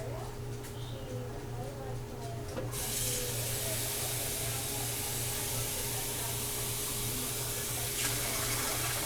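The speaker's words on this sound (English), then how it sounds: "I'm going to add 2 quarts of water" Tap water runs into a pot holding raw chicken skin and fat for rendering schmaltz, a steady close splashing pour that grows fuller and louder partway through and continues without a break.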